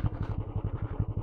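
A Classic 350 motorcycle is ridden slowly, its single-cylinder engine thumping in a steady, close, loping rhythm with a low mechanical clatter.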